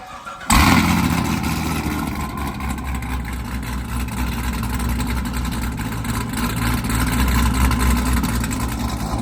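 A cammed 800 hp Cadillac CTS-V V8 cranks and fires up with a sudden roar, then settles into a loud, lumpy, rumbling idle close by.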